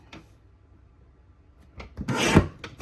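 A paper trimmer slices through cardstock in a brief, close rasping stroke near the end, preceded by a few faint rubbing and shuffling sounds of the paper being positioned.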